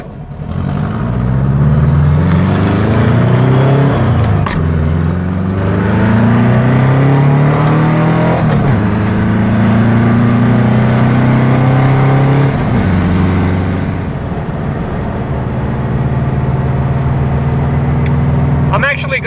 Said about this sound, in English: to rev it really high because I just want to make sure it's not going to break on me.